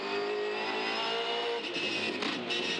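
V8 Supercars racing at Bathurst in 2013, engines droning loudly and steadily as cars pass with a rising, sustained whine, close and continuous.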